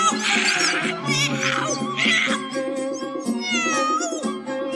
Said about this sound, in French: le capitaine apporta le chat de Dick Whittington